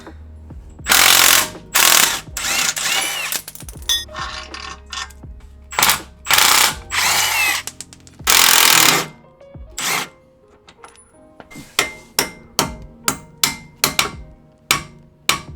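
A ratchet wrench loosens suspension bolts on a BMW X5 M50i during a coilover install. Loud, close bursts of rapid clicking come in several separate runs, then give way to a quicker series of short, sharp ratchet strokes.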